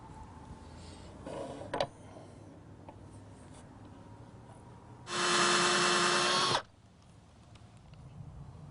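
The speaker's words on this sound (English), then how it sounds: "I use a self-centering drill bit to drill pilot holes for the brass screws." A single power drill with a self-centering bit whirs for about a second and a half drilling a pilot hole for a brass hinge screw, loud and steady, then stops, with quiet room sounds before and after.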